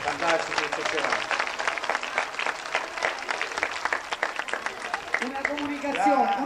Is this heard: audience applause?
yes